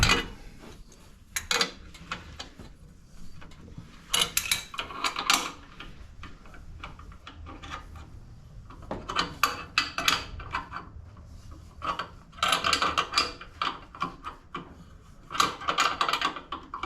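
A wrench ratchets on fittings of a 1969 Pro Street Camaro, repeated bursts of rapid metallic clicking and clinking that come and go in irregular spells, close by.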